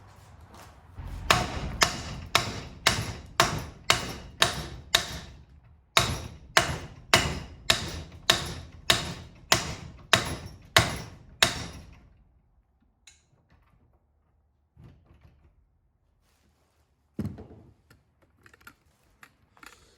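Rapid, evenly spaced hammer blows ring out on a rusted, seized metal part on a Bass Tracker boat in two long runs, then stop. A couple of scattered knocks follow after a quiet pause.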